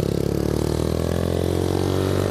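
Honda Titan 190cc motorcycle engine revving, a loud, close, buzzing roar that runs continuously with slight rising strain and some rattly clatter underneath.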